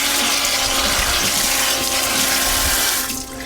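Tap water runs hard and steadily while a 2.5 pound beef tenderloin is rinsed in a sink, a loud close splashing rush that eases slightly at the end, with no talking.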